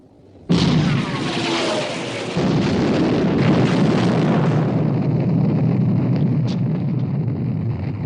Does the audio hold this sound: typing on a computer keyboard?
no